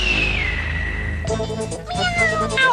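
Cartoon cats in a Ninja Hattori episode meow, with one drawn-out, falling meow and then several overlapping, higher meows from a group. The sound is clear and fairly close, with a light background underneath.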